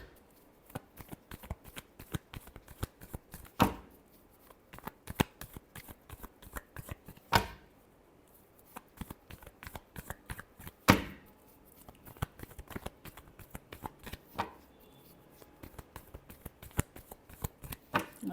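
Tarot cards are shuffled by hand in a long run of quick, crisp riffles and slaps, with louder thumps every few seconds as the deck is squared. The sound is close and fairly quiet, with no talking.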